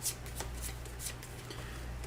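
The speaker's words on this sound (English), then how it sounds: "And we will shuffle these turn order cards." Turn order cards from the board game Astro Knights are shuffled at close range, a run of quick riffling bursts over a low steady hum, with faint speech in the background.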